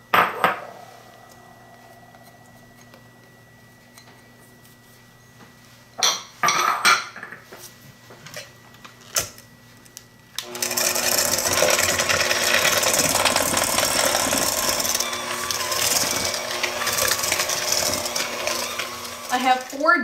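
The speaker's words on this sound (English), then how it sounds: "I'm going to mix a 1/2 cup of sugar and 2 teaspoons of lemon peel with that" Mascarpone cheese is mixed with sugar and lemon peel in a bowl: scattered clinks and scrapes at first, then a steady, close whirring churn that runs to the end, with a voice heard faintly.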